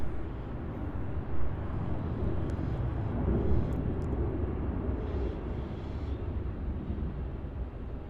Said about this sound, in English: So here we have the 787 now, taxiing up to runway 34 for its departure.